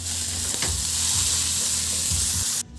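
Chopped tomatoes going into a hot pan of onions set off a loud, steady sizzle with stirring scrapes, cut off abruptly near the end.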